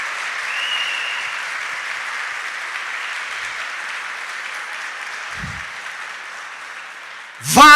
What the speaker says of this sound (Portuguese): Brada uma salva de palmas para ele.